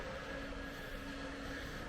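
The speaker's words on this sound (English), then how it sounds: "There it is, the old Soviet train." An old Soviet train at a railway station in Moldova gives off a steady, droning rumble with a constant low hum, unchanging and moderately loud for the whole stretch.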